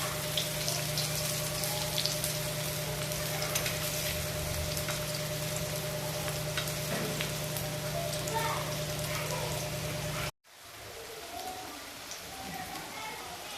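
Alu vadi, colocasia leaf rolls, deep-frying in oil over a low flame, giving a steady, dense sizzle with a constant hum that cuts off abruptly near the end before a quieter sizzle resumes.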